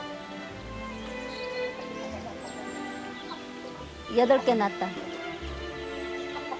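Free-range poultry chickens at a countryside feeding, clucking softly in the background under close conversational voices, with a louder burst of calls briefly rising midway.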